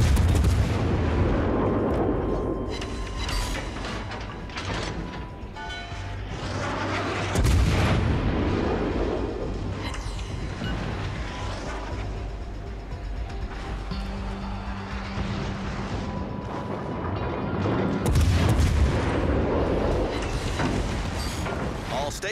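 Naval artillery booms in World of Warships Legends, heavy blasts recurring every few seconds over a continuous engine and sea rumble, with a radio-style voice speaking in between.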